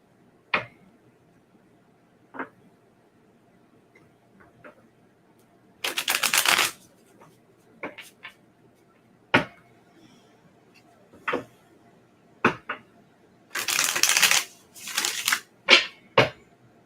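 Tarot-style cards being shuffled for a yes/no reading, with two longer riffling bursts among scattered sharp card snaps and taps, close and fairly quiet with long pauses between.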